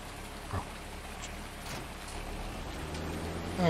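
Rain falling in the video game Farming Simulator 19, a steady soft hiss of drops with scattered patters, light and continuous, with a faint low vehicle rumble beneath.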